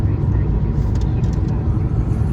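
Fiat Egea 1.3 Multijet diesel climbing a steep ramp in fifth gear without downshifting. A steady, loud, low engine drone and road rumble are heard from inside the car throughout.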